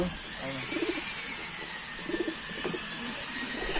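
Racing pigeons cooing in a loft in soft repeated low burbles, several calls at moderate distance over a steady background hum.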